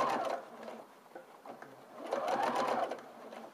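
A sewing machine stitches through garment lining close to a hip pocket seam, a steady mechanical whir that runs continuously with slight swells in speed, close and fairly quiet, with no talking.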